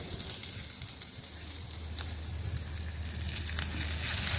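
Ivy gourd pieces and slit green chillies fry in hot oil for a crispy stir-fry, making an even, continuous sizzle and crackle close up with no voices.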